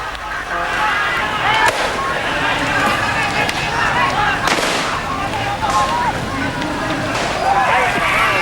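Police fire repeated warning shots and tear gas to break up a student protest in South Sulawesi, with sharp bangs cracking out over constant crowd noise and a voice talking throughout.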